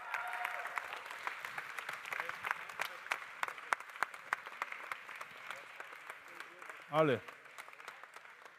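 Audience applause on stage at the Swiss Coffee Festival 2023 finals: steady, dense clapping from a crowd runs throughout while a voice speaks over it, and a brief louder swell comes near the end.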